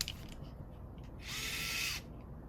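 A small Vessel electric screwdriver with a 1/4-inch chuck whirs briefly, goes quiet, then spins again in a higher, steady buzz for under a second before stopping, close up with no talk.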